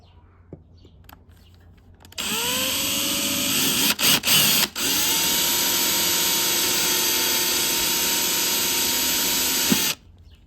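An electric drill whines loudly and steadily for several seconds drilling through metal on an ATV, briefly stuttering early on as it bites, then stops abruptly; quiet before and after.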